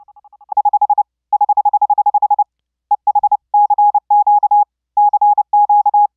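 A pure sine-wave Morse code tone from a keyable software oscillator sounds close and loud, with short and long keyed elements separated by gaps. Some of the elements are clipped and choppy.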